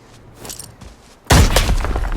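After a quiet stretch of faint background noise, a loud, sudden grenade blast erupts and rumbles on, heard close up in the video game Arena Breakout.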